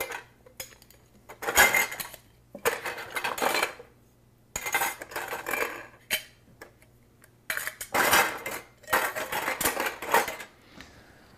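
Containers and lids clatter while someone rummages for lids in a kitchen during kefir preparation, giving bursts of clinking and rattling dishes separated by short pauses, fairly close, with no talking.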